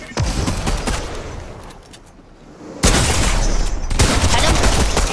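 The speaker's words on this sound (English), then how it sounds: "I'm about to laser him out of the air right now." Rapid gunfire in the Fortnite video game, loud dense bursts of shots that thin out briefly before another heavy volley, with some talking mixed in.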